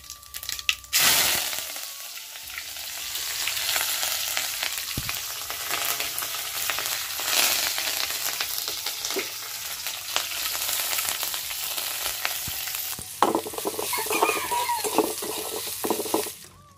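Oil sizzles steadily in a kadhai as a tempering (chhonk) for dal is prepared, a dense, close crackle with stirring scrapes throughout and a brighter burst of spattering near the end; no one speaks.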